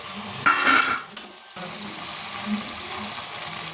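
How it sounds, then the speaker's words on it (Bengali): Onions browned in a pan sizzle as ground spice paste with ginger, garlic and green chilli is added, a loud hiss and stirring scrape followed by a steady, lower frying crackle close by. "এবার মশলা দিয়ে দেবো, বাটা মশলা, আদা রসুন আর লঙ্কা।"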